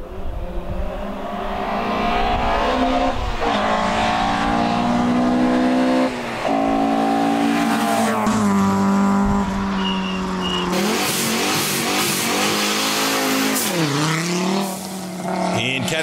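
Historic rally cars from the 1976 to 1981 category race past at full throttle, engines revving hard through gear changes with loud, sustained roars, brief lifts and renewed acceleration over sixteen seconds.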